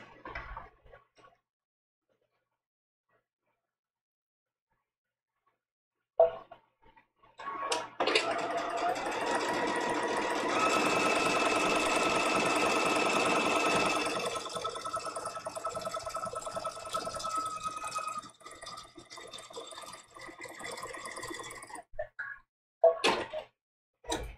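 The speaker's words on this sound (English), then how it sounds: "we're going to come back and we're going to sew this seam." A home sewing machine stitches a seam on quilt-as-you-go placemats. After a few quiet seconds it runs as one steady mechanical whir for about fourteen seconds, with short taps and handling noises before and after.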